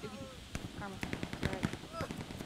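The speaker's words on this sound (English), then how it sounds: "now we got an MG" A machine gun in Hell Let Loose fires rapid bursts of sharp, fairly close shots, steady pops over the last two seconds, mixed with voices talking over the battle.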